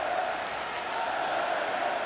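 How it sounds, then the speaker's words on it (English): A steady wash of hockey crowd noise fills Royal Arena during a Russia–Sweden group-stage game at the 2018 World Championship, broad and continuous cheering with no clear peaks. "Crowd coming alive at Royal Arena."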